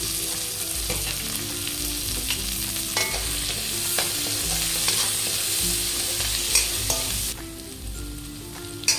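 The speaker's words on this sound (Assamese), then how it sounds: "এতিয়া মই ইয়াতে বিলাহীখিনি দি দিম।" Chopped tomatoes hit a pan of onions already fried until browned with green chillies, giving a steady, close sizzle of frying with occasional stirring scrapes. No one talks.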